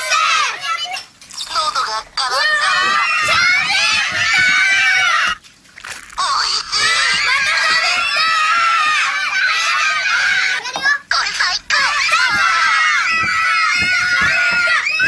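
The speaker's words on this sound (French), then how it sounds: "Arrêtez de crier à chaque fois que le jouet parle!" Children scream and shriek loudly and almost continuously in a Japanese McDonald's television ad, high-pitched excited cries with brief gaps and some watery splashing mixed in.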